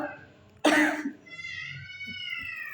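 A single sharp, harsh cough bursts out close to the microphone, followed by a faint sustained tonal hum in a quiet room.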